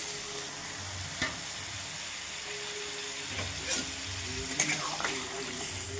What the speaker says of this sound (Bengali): একটু নাড়িয়ে নেব। সামান্য জল দিয়ে দিলাম